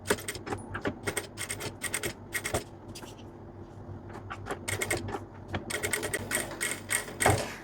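Sewing machine stitching a satin hem onto the body of a nightdress, running in quick repeated bursts with short pauses between them, close and fairly loud.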